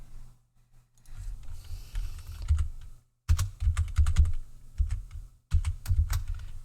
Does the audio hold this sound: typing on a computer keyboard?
yes